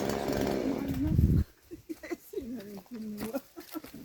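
A chainsaw cuts through a fruit tree, roaring loud and close for about a second and a half before cutting off abruptly. People then talk over quieter outdoor sounds.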